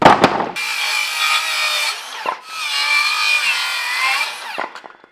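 Power saw cutting through wooden crosses in two sustained bursts, a loud whining rasp with brief clatter and knocks at the start, between the cuts and at the end.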